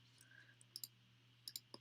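Computer keyboard keys are pressed in a quiet room, a few faint, sharp clicks arriving in quick pairs with short pauses between them.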